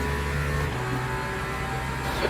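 A screaming V12 race car engine in the sim racing game Le Mans Ultimate, held at a steady, loud drone with sustained tonal harmonics and a slight shift in pitch partway through, heard alone.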